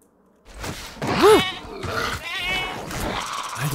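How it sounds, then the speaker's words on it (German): A goat bleats once in the dinosaur park game Jurassic World Evolution 2, a short wavering cry rising and falling in the middle of the clip while someone talks over it. "Die Ziege, Leute."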